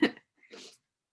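A single sharp sneeze bursts out close by in a classroom, followed by a brief softer breathy sound, then silence.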